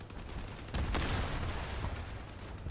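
Rapid gunfire from a machine gun in the vehicle combat game Crossout, a dense continuous burst that swells louder partway through over a steady rumbling background.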